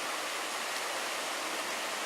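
Burbage Brook flowing through the wooded Padley Gorge in October makes a steady, even rush of water that holds its level throughout, soft and unbroken with no voices.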